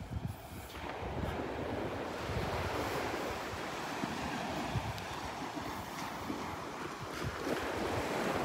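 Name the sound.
ocean waves and wind on a beach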